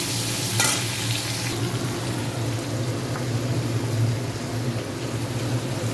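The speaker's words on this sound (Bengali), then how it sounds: "হালকা মাছগুলোকে একটু ভেজে নেবো" Fish lightly frying in a pan gives a steady, dense sizzle that runs throughout, with a brief brighter crackle near the start and a low hum beneath.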